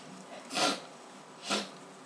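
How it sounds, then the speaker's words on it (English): Two short, breathy nose blows about a second apart, close and fairly soft, over a quiet room. "I think I need to blow my nose"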